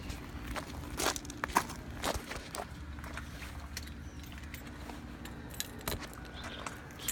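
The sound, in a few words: keys jangling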